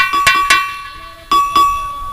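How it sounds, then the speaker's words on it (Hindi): A bright metal bell rings in quick strikes, two sharp pairs of clangs close together, each leaving a clear ringing tone that decays between hits. "तब तक 3 बार घंटी बजी।"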